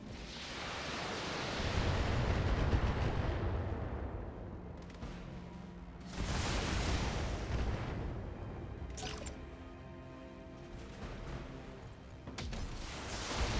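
Mech weapons firing in the BattleTech video game: heavy booming volleys that swell into long rumbling noise bursts, loud and close, each followed by a roaring decay, with no talk.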